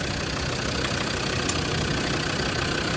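A restored 2003 Land Rover Defender 90 with a TD5 diesel engine idles steadily and close by, with a dense, even rumble and no talking.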